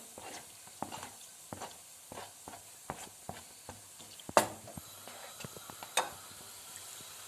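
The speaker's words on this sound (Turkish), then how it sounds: "Çok fazla hırpalamadan yavaş yavaş çevirerek kavuracağım." Chicken livers and hearts sautéing in a pan with onions, turned slowly: a steady string of soft, close utensil taps and scrapes over a faint sizzle, with no talking.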